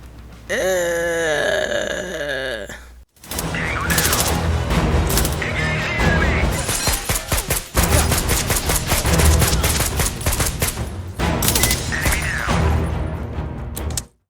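Gunfire from the PC shooter Black One Blood Brothers: loud, dense bursts of automatic fire and rapid shots crackling almost nonstop, with a brief pause near the start, close and dominant.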